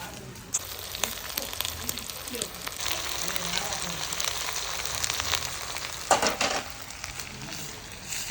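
Onions and dried red chilies sizzle and crackle steadily in a hot pan for Pallipalayam chicken, with occasional scraping clatter from stirring.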